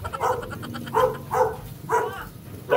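A guard dog at a house gate barks in a series of four or five sharp, mid-pitched woofs spaced about half a second apart, fairly close and loud, with quiet background between barks.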